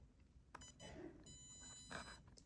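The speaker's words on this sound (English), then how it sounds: "There's the beep saying that we've got power." A quiet electronic power-on beep from a robotic crawler sounds in a short tonal burst, then a second one follows, faint against a low background hum.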